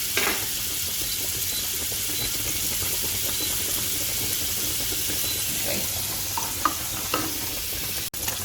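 Pancetta frying in a pan for spaghetti carbonara, a steady close sizzle and crackle with stirring scrapes and a few brief clinks, no talk.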